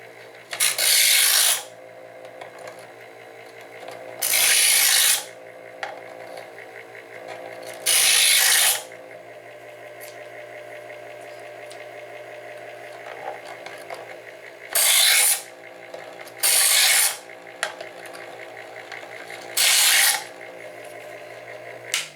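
A WHENOW 4-in-1 60W two-stage electric knife sharpener runs steadily while scissors are drawn through it, six short harsh grinding bursts spaced a few seconds apart over a low motor hum.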